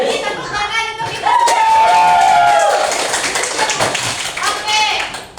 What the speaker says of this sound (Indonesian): Kita tepuk tangan untuk kita.